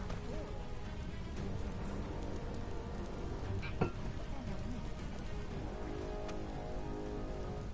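Steady video game rain patters on a surface in a soft, even wash, with a few faint tones and a brief knock partway through.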